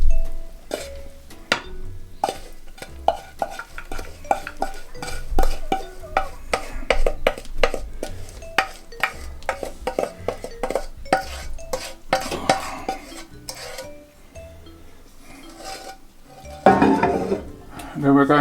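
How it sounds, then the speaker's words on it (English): Peanut chikki mixture scraped and spooned into a dish, with a dense run of close metal spoon clinks and scrapes against cookware and a brief louder clatter near the end. "Then we're going to spoon this into our dish."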